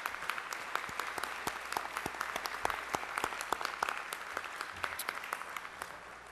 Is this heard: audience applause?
yes